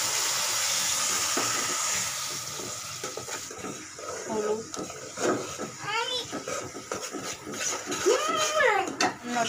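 Lentils frying for dal bhuna with bay leaf hiss and sizzle loudly as water is poured in, with a burst of steam and stirring. A voice and other talk join over the cooking noise in the second half.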